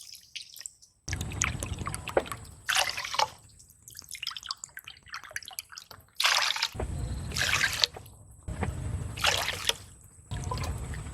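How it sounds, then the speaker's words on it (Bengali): Water poured into a pot of sugar for rasgulla syrup, bursts of splashing pouring and trickling up close, several separate pours with short quiet gaps between them. "এবার 6 বাটি জল দেব।"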